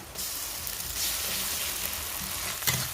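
Ginger garlic paste hitting hot oil and frying, a dense, steady sizzle that starts abruptly and carries on, close and even, with a brief scrape near the end and no talking.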